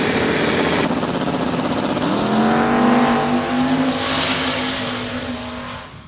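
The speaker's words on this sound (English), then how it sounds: "David Chrysler in that 84 Chevy S10" 1984 Chevy S10 drag race car running down the strip at a motorsport track, a loud, steady engine roar that climbs in pitch as it pulls past, with no talk over it.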